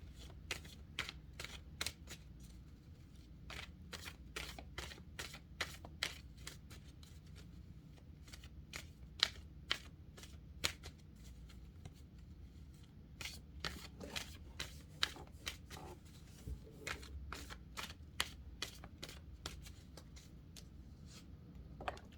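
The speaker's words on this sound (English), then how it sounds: "let's go ahead and just keep shuffling about their current situation" Tarot cards are shuffled close up during a card reading, with rapid crisp riffling bursts repeating in clusters against quiet room tone.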